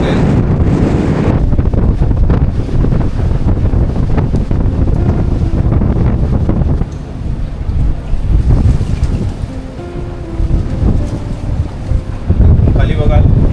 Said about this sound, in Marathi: तिथे खाली तिथे पाणी पडतं, ते पण दिवस इकडे येते, एवढा वारा आहे.